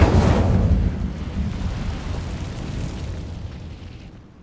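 An Incendio fire spell cast in Hogwarts Legacy: a sudden loud whooshing burst of flame that roars up at once, then rumbles and slowly fades over about four seconds, heard alone.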